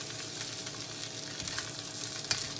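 Cabbage and bacon fried rice frying over high heat in a wok, giving a steady close sizzle with a few light scrapes and clicks from stirring, and no voices.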